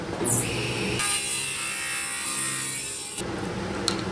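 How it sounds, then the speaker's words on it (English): A saw grinds steadily through a wooden golf driver head, cutting its loft, for a couple of seconds, close and loud, with a brief scrape before and after. "I'm actually going to cut the loft of the driver first"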